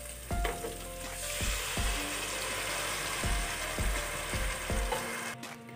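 Spice paste with white cumin frying in a pan for nargisi kofta egg curry, a loud continuous sizzle punctuated by repeated hard knocks and scrapes of a spoon against the pan at an uneven rhythm, close and wordless.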